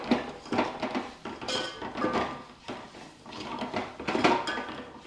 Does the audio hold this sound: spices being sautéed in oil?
yes